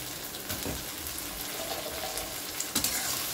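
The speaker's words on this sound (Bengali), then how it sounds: "আলুটাও এর সাথে একটু ভেজে নেব।" Small potatoes frying with softened onion in a pan for a fish-head dish, a steady soft sizzle with occasional stirring scrapes, close and moderate, no voices.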